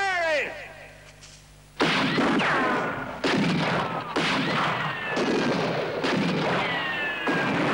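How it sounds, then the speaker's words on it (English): Gunfire in a 1973 Universal western film: a series of loud, echoing shots and booms cracking one after another, ringing with ricochet-like whines, after a voice shouts at the start. "Start firing!"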